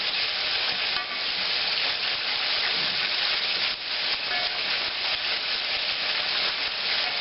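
Chicken pieces frying in hot oil in a pan on high heat, a dense, continuous sizzle and crackle, loud and close throughout with slight surges as pieces are turned.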